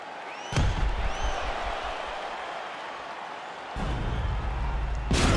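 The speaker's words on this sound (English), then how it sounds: "This crowd is going sick after what they saw in that previous round." Video game UFC arena crowd roaring and cheering after a brawling round, a dense steady wall of noise with sharp thuds and swells at the start and end.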